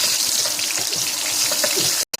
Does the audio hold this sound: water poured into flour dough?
yes